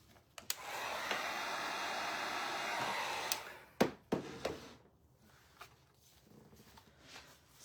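Hair dryer drying a homemade craft project, blowing steadily for about three seconds and then cutting off, followed by a few sharp taps and handling knocks in a quiet room.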